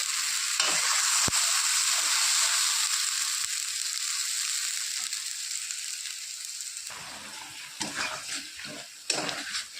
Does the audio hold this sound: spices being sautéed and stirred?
yes